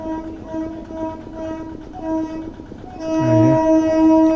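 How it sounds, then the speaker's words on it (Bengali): Train passing on the Tarakeswar line near a cold storage yard, heard as a steady mechanical rumble with tonal hum that swells louder toward the end as it comes closer. "ট্রেন যাচ্ছে"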